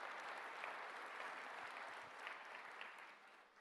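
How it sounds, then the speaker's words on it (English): An audience claps in a brief, steady round of applause at a tech conference, dense and even, tapering off slightly at the end. "Let's give them a round of applause."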